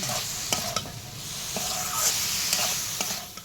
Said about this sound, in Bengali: এবার ভালো করে নেড়ে চেড়ে মশলাগুলোকে কষিয়ে নেব